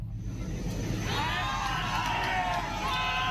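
A crowd cheers and whoops in a played video, a steady roar with shrill shouts rising after the first second and holding to the end.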